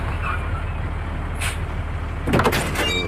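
A truck arrives carrying a wedding marquee, its steady low engine rumble running throughout, with a short hiss of air brakes midway, then a louder burst of rattling and squealing as it pulls up close. No voices are heard.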